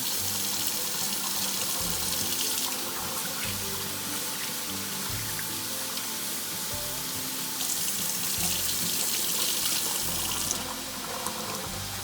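Running tap water splashing steadily into a sink, with faint swishing as rice grains are stirred and rinsed, continuous and close.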